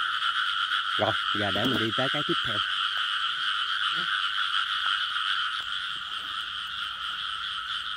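Frogs, including large females, croak in a dense, continuous outdoor chorus during a night frog hunt. Someone speaks briefly near the start over the loud, steady calling.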